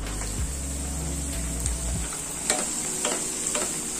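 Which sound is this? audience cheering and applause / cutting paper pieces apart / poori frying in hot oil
poori frying in hot oil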